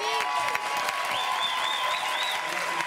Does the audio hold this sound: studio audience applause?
yes